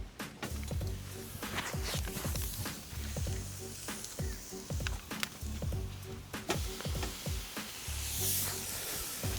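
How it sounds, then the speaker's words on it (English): Double cut pork chops sear on a hot grill, a loud continuous sizzle and hiss up close, broken by repeated handling thumps and scrapes as the meat is placed and moved. "let's get the searing here. There's gonna be a quick and powerful sear."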